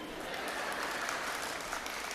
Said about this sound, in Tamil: அந்த 35 வாங்குறவங்க மட்டும்தான் கைதட்டுறீங்க.